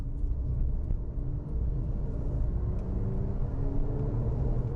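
Porsche Cayenne accelerating to pass a car on the road, a deep steady engine rumble with rising tonal strain from inside the cabin, continuous and fairly loud.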